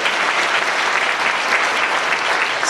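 A church congregation at a deaf-ministry worship service breaks into applause, with thick, continuous clapping from many hands that stays loud and even throughout.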